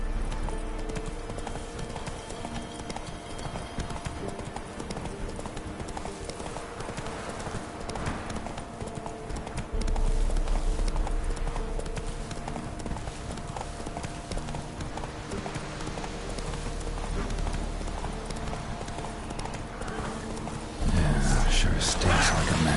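Hoofbeats of Roach, a horse in the video game The Witcher 3: Wild Hunt, a steady rhythmic clip-clop continuing throughout, with game ambience, occasional voices and a louder shift near the end.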